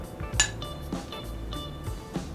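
A spoon clinks and scrapes against a small dish while stirring honey and brown sugar together, with several close, light knocks at an uneven rhythm and no voices.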